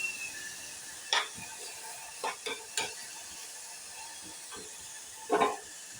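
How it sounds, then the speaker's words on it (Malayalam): A spatula scrapes now and then through a banana, coconut and jaggery filling in a pan over a soft, steady hiss of sautéing, with a few sharp stirring strokes standing out. "ഇനി ഇത് നല്ലോണം നമുക്ക് നല്ലോണം ഇതുപോലെ വഴറ്റിയെടുക്കണം"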